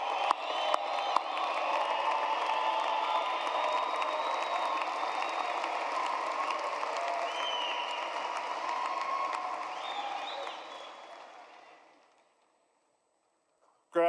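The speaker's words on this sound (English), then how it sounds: "I request we give all the graduates a round of applause." An audience applauds graduates at a morning undergraduate graduation ceremony, with sustained steady clapping and a few whoops that fade away near the end.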